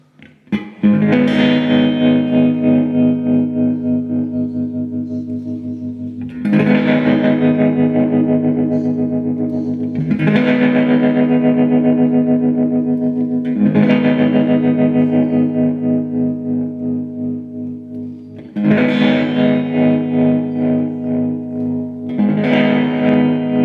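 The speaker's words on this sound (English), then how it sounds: "I'll add some overdrive in. It's the JK Pedals Sunday Arvo drive." A guitar rings out chords through a JK Pedals Baby Doll Deluxe tremolo and a Sunday Arvo overdrive, about five strummed chords each left to sustain, gritty and pulsing, with no voice.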